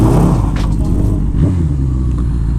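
A Suzuki GS 750 motorcycle engine runs loud and close as the rider pulls away, a steady heavy low rumble that holds throughout with slight throttle changes.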